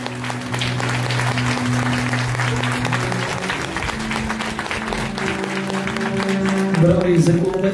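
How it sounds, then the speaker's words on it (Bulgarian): Wedding guests clap strongly and steadily at the reception while sustained music tones play underneath, and the clapping swells toward the close. "Може ли силни големи аплодисменти?"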